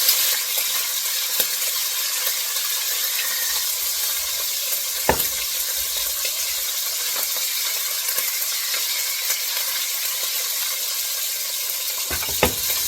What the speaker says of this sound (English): That beautiful sear. I seared on both sides.